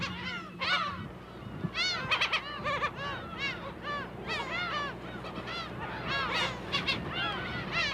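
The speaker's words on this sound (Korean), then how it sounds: "갈매기들의 합창소리, 기온의 탄을 건너와 강하게 부딪히는 바람소리" Black-tailed gulls call in a noisy chorus on Dokdo island, many overlapping cries rising and falling close by, with wind in the background.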